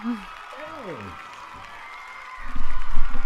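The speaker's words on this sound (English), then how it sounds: "we both did applause maybe?" Applause sound effect swells in during a podcast, a dense patter of clapping that rises loudly over the final second, following close, strongly tonal vocal sounds near the start.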